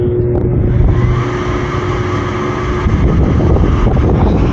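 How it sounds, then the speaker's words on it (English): A new rooftop HVAC unit's blower runs with an abnormal sound during a no-heat fault, a steady loud rumbling drone with a fixed hum throughout, close by and without talk. "Does that blower sound? That blower didn't sound normal."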